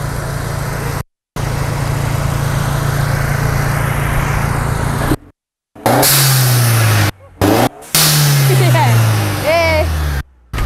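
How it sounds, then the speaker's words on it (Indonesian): Modified car engine with an aftermarket GFP blow-off valve, revved loudly in repeated bursts with a whooshing release after each, broken by short gaps, with people talking over it. "Jadi sekarang udah keluar suara blow offnya."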